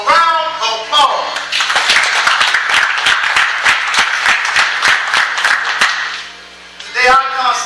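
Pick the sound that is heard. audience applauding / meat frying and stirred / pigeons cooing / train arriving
audience applauding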